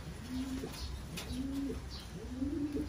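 Racing pigeons coo nearby in repeated low, throaty calls, several rounds in a few seconds over faint background chatter of other birds.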